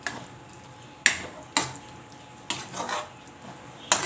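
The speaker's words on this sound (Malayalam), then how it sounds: "ഇനി നമുക്ക് ഒന്നുകൂടെ നല്ലവണ്ണം ഇളക്കി കൊടുക്കാം" A spoon stirs mushroom masala in a kadai, making several distinct scraping, clattering strokes against the pan with quiet pauses between them.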